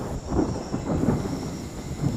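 Thunder from a storm, a deep, continuous rolling rumble that swells and fades in several loud waves, with a light rain-like hiss underneath.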